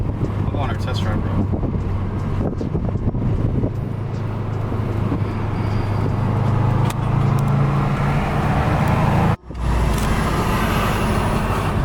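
A 2004 Subaru WRX wagon on a test drive, its engine and road noise a steady loud rumble inside the cabin with wind buffeting, while people talk over it.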